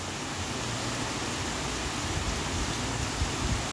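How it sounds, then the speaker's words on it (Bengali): Heavy rain pours outside a window as a dense, even hiss that stays constant and fairly quiet throughout, with no voices and no breaks. "ভালোই জোরে বৃষ্টি হচ্ছে।"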